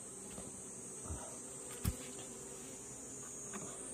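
Honeybees buzzing around a beehive during a hive transfer, a faint steady high hum with occasional closer bee passes and soft handling knocks, no talking.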